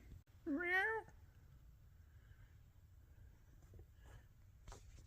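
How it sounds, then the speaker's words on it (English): A shop cat gives one clear, fairly close meow that rises and falls, and then a quiet room hum with faint scattered noises follows. "Shop cat."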